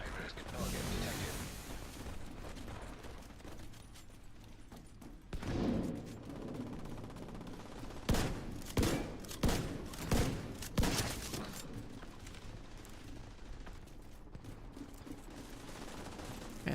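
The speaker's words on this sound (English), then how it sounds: "And the shotgun hits hard as hell." Heavy shotgun blasts in The Division 2, a loud cluster of four or five booming shots in quick succession after scattered earlier fire, set against a busy game background.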